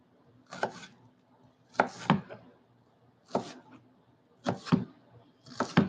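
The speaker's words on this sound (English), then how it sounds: "Then you slice it in the corner like this." A knife slicing through an onion on a cutting board, five clusters of quick knocking cuts spaced about a second apart, close and fairly quiet against a silent background.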